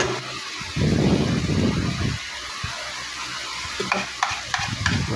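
Cabbage stir-fried with scrambled egg in oyster sauce, close scraping spatula strokes over a steady sizzle, with a few sharp clinks of utensil against the pan near the end.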